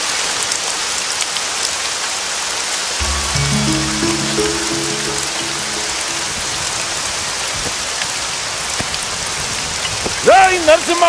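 Heavy rain pours over farm fields in a Telugu film scene, a loud constant hiss of falling water with faint tonal notes midway and a brief voice near the end.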